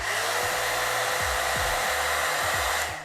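A hot air brush hair dryer runs at full power, a steady, loud airy whoosh with a low motor hum that holds for about three seconds before easing off at the end.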